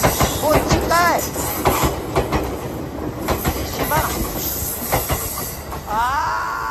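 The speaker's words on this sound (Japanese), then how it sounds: "南宮崎方面から来る電車をここですれ違い待ってたんだ、単線だから" A train rumbles past on a single-track line at JR Aoidake Station on the Nippō Main Line, with rhythmic clickety-clack of wheels and occasional high wheel squeals, loud and close, with brief talking over it.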